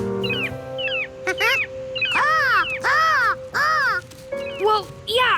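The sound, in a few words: seagulls calling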